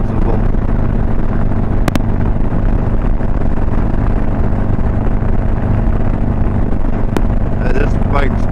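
A Harley-Davidson Road Glide motorcycle on the road, its engine droning steadily and loudly throughout with constant wind and rumble and no pauses.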